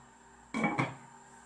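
A lid set onto a cooking pot of fish with calamansi, two quick close metallic clanks in succession against a quiet kitchen background.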